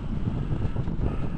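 Wind blowing across a North Sea beach in Zeeland, a steady, loud rushing roar buffeting the microphone throughout, with no voices.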